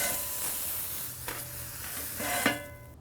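Mushrooms, with onions nearby, fry on a charcoal-heated griddle with a steady close sizzle, broken by a few scrapes and clacks of a metal spatula, one louder near the end.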